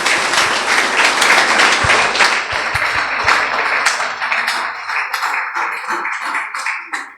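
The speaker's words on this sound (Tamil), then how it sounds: "மீண்டும் ஒரு முறை கைத்தட்டல் கொடுத்து பாராட்டலாம்" Applause and clapping from an audience at a school Independence Day debate event, a dense sustained round of many hands that gradually thins and fades toward the end.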